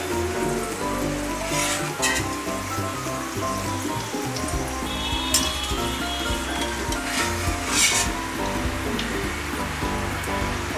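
Okra (bhindi) for a crispy home-style fry sizzles steadily in hot oil, a dense continuous crackle with occasional clinks and stirring, fairly loud and close with no talking.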